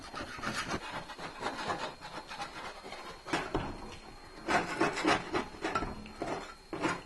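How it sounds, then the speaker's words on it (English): A tool scrapes down a set plaster scratch coat on a wall, giving steady rough rasping strokes in an irregular rhythm, close and moderately loud with no talking. "we're going to scrape it down and prepare to put the second coat on"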